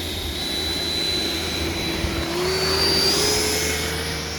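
Remote control jet airplane, a Stinger, taxiing off-road outdoors, a steady whining turbine with a rising pitch over a constant rumbling drone.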